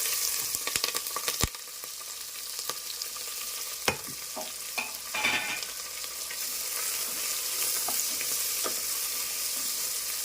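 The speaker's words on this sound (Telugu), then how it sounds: "ఇవి గోల్డెన్ కలర్ ఫ్రై అవనిద్దాము" Green chillies and onion fry in hot oil, a steady sizzle throughout with a few sharp clinks and scrapes of a stirring spoon against the pan.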